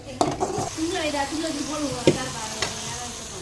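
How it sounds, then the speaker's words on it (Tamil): Egg gravy bubbling and sizzling in a pan while a spoon stirs it steadily, with a couple of sharp clinks of utensil on metal and a faint voice in the background. "முட்டை கிரேவி ரெடி ஆகிக்கிட்டே இருக்கு."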